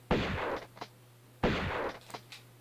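Two gunshots from the Tomb Raider 1 video game, each a loud close bang with a short decaying tail and a faint echo after it, spaced more than a second apart over a low steady hum.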